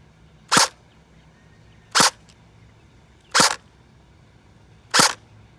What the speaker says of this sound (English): Let's do a full auto burst.